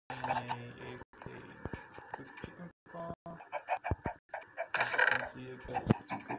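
Minecraft chickens cluck in short, scattered bursts close by, mixed with small clicks and clatter from a mechanical farm setup, the clucks coming irregularly and fairly softly over several seconds.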